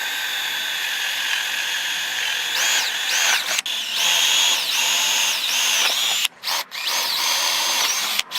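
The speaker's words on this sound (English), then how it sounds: "we're going to drill from the face side down, because I know when this drill bit goes through" Power drill boring down through pallet wood from the face side, a loud steady whine that rises and dips as the bit bites, then cuts out briefly near the end before restarting.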